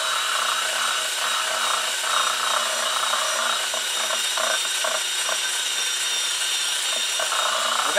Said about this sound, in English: we'll start on the edge and just work slowly, and this takes the rust back off a bit